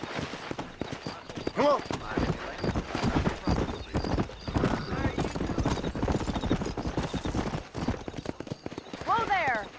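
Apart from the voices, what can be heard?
horse galloping, from the video game Red Dead Redemption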